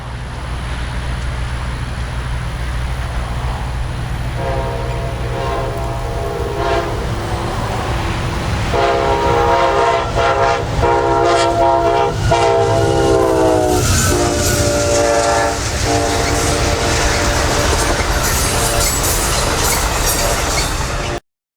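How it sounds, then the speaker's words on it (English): Amtrak 91 passenger train passing near Taft, just south of the yard, led by locomotive Amtrak 160 in a fresh Pepsi can paint scheme; a loud steady rumble builds as repeated horn blasts sound up close, continuing until the clip ends abruptly. "to catch Amtrak 91 with Amtrak 160 fresh out of the paint booth in the Pepsi can scheme"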